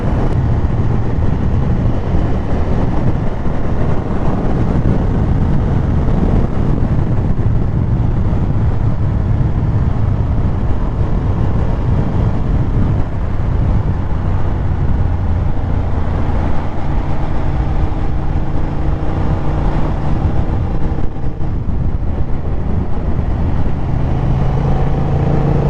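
A 2025 Honda CB750 Hornet motorcycle on the move, its engine a steady loud rumble mixed with heavy wind rush throughout, pitch shifting gently as the rider works through turns.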